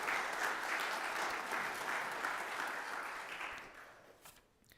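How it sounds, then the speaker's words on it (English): Congregation applause at a flower ceremony church service, a dense wash of clapping from many hands that fades out toward the end. "can we give them another round of applause?"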